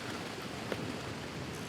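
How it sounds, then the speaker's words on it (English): Heavy rain pours down steadily during a wilderness thunderstorm on a canoe trip, a dense, even hiss with no pauses and one faint brief knock partway through. "It's a downpour out there."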